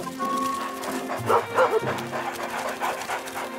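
Cartoon dogs bark and yip in a short burst over background music, with whimpering, panting tones and a couple of louder barks near the middle.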